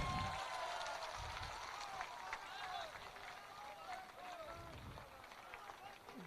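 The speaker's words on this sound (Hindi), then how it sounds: "जोरदार ताली बजाइए" Steady crowd applause at a political party launch in Bihar, filling the whole stretch, dense and continuous, with a loud voice on a public address system over it.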